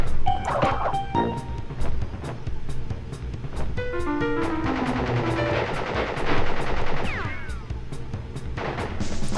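Rapid bursts of automatic gunfire from a boss in the Crash Bandicoot video game, loud and close, rattling in long strings mixed with game music and effects, then stopping as the gun jams.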